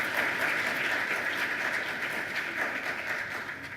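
Audience applause for a staff member at a staff recognition event: a steady, even wash of many people clapping at moderate distance, continuing throughout with no voices over it and fading slightly at the end.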